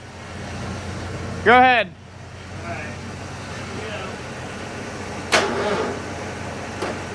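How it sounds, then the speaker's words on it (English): A starter motor strains against a tight engine in a short cranking burst, followed by softer mechanical clicks and a second brief whir, with a voice speaking briefly. "This motor is just too darn tight. This starter does not like it."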